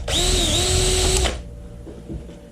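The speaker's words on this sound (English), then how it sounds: "You have to drill the head of them here." A power drill bores through the head of a rivet during air compressor repair, a loud high whining grind lasting just over a second before stopping abruptly, followed by faint clicks.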